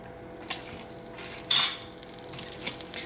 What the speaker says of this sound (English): So I'm gonna let the butter melt